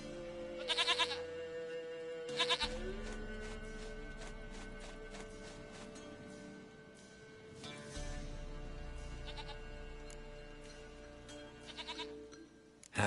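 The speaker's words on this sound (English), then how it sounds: "Goat of mine, dearest, sweetest goat." A goat bleats in The Witcher 3: Wild Hunt, a few short nasal bleats in separate bursts over a steady game ambience, fairly close and clear.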